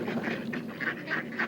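Ducks let out a short run of nasal quacks, about five or six close calls in an uneven rhythm over a faint background hiss.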